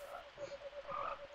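A swamp frog in Secret of Evermore gives a quick run of rhythmic croaking pulses, fairly quiet, followed by a brighter game effect near the end.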